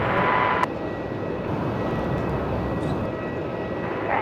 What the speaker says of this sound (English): Velocity 680 coming in from Perth.